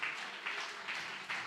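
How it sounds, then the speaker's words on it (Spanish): Applause from a church congregation during a Spanish-language sermon, a steady wash of clapping hands with rhythmic swells, heard at a moderate distance with no clear talking over it. "Dele ese aplauso al Señor."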